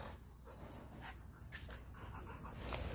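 A pet dog holding a ball pants close by in quick, breathy rhythmic puffs, soft and continuous, with no talking.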